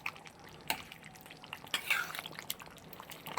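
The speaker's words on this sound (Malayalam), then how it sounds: "അപ്പം നന്നായിട്ടൊന്ന് ഇളക്കി കൊടുത്തിരിക്കുകയാണ്" Pork curry being stirred in a pot, with faint wet scraping and soft drips and bubbling, quiet and close, a few brief clinks of the spoon against the pot's side.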